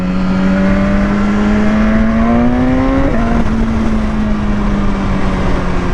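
A litre-class motorbike on the Isle of Man roads revs hard to overtake a bus, its engine note climbing steadily in pitch, dropping briefly at a gear change, then pulling on loudly and close under steady wind rush.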